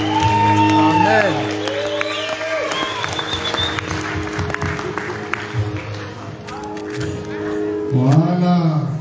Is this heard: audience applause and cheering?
yes